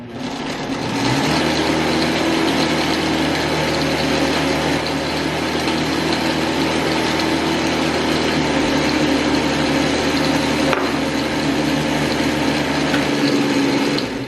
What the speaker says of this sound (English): Just gonna scoop them in super quickly and then get this blender going again.